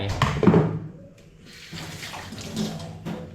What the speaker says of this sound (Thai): อ่ะกดน้ำใส่